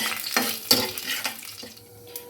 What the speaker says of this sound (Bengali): ফোড়নটা একটু ভাজা হতে থাক